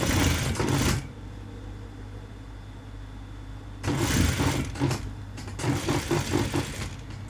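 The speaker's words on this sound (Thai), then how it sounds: "แล้วก็เย็บริมเล็ก ๆ ไม่ต้องเปลี่ยนไม่ต้องเปลี่ยนตีนผี ใช้ตีนผีนี่เลย" A sewing machine stitches a narrow edge along a trouser zipper fly facing with the standard presser foot, running in two bursts of whirring stitching separated by a quieter pause, close and fairly loud with no talk.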